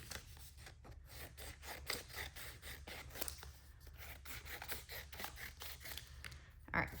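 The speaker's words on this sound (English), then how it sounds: "So first we're going to cut them into some little strips." Scissors snip a material into little strips, a faint, close run of quick regular cuts and rubbing in a quiet room.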